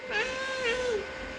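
A 3-year-old girl imitates a cat's meow, two drawn-out rising and falling meows close to the microphone, fairly soft, with no other talk.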